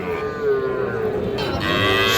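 Young bulls and heifer calves at a village cattle market in Parbatipur, Dinajpur, low, sustained mooing close by, one long call sliding into another, with crowd noise behind.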